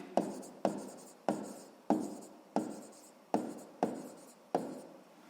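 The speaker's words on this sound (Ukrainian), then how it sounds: "Ну і записуємо, що це у нас витратить." A pen scratches across paper while someone works a sixth-grade maths exercise, making eight short, evenly spaced quiet strokes in a calm room.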